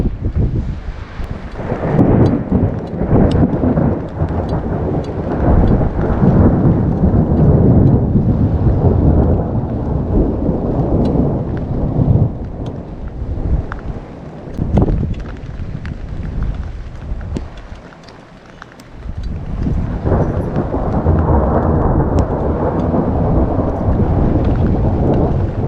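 A loud, continuous thunderstorm on a rural homestead during heavy lightning: deep rolling thunder rumbles through steady pouring rain and gusts of wind buffeting the microphone, with no one speaking.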